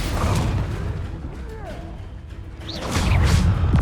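Bombarda blasting spell cast in the video game Hogwarts Legacy, heard as a dense, continuous roar of booms and whooshing bursts with faint descending magical tones, rising louder toward the end, with no talk.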